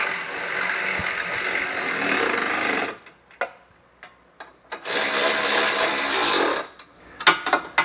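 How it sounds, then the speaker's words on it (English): Power tool or impact driver running in two sustained bursts while snugging trailer hitch bolts on a 2022 Audi Q5, with short clicks and knocks of hardware between the runs. "I'm just going to snug these, and then I'm going to torque them to the specs"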